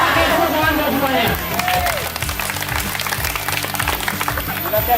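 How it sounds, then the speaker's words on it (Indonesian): Applause and cheering from a crowd of vocational school students on an industry visit trip, dense clapping filling the whole stretch with voices mixed in. "tepuk tangan buat semuanya"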